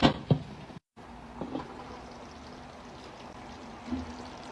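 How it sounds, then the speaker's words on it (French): Boiling water poured into a simmering pot of meat and tomato sauce for spaghetti, a faint, steady wash of pouring after a brief clink and a short gap. "Là, à côté, j'ai de l'eau bouillante. Je vais en mettre un petit peu."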